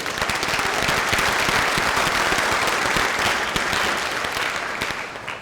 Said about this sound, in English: Round of applause for Mrs. Radcliffe.